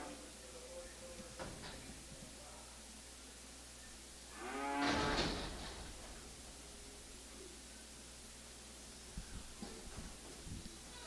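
At a calf and stocker livestock auction, a single bellowing moo rises clearly for about a second amid background hiss and faint ambient noise.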